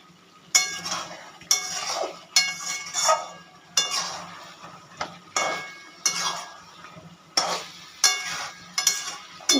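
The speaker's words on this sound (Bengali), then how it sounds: "একটু গ্যাস বাড়িয়ে এবার নাড়বো আবার।" Chicken kosha being stirred in a pan, a utensil scraping and clinking against the metal in repeated strokes roughly every second, with a faint sizzle underneath and no talking.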